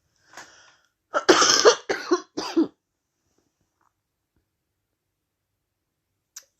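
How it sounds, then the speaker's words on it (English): A person coughs in a short cluster of three or four harsh, close coughs after a faint throat sound, then silence with a tiny click near the end. "Sorry for the coughing"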